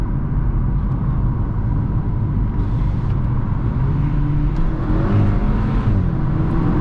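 VW Golf GTI Mk5 with a DSG gearbox accelerating hard, a steady loud engine and road roar from inside the cabin with a brief rising sweep near the end as gears change.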